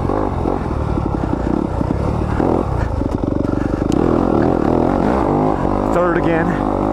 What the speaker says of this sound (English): There's so much torque on this 250 motor.